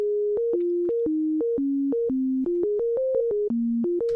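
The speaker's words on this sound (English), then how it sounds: "all you're hearing here is just a pure sine wave" A pure sine wave synth tone plays a stepped melody of clean sustained notes that jump between pitches with small clicks at each change, steady and loud with no drums.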